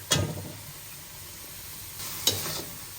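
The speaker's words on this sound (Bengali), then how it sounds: "মাছ কষাবো" Fish sautéing in a pan gives two bursts of sizzling and stirring, a loud one at the start and a second later on, with quieter frying hiss between them.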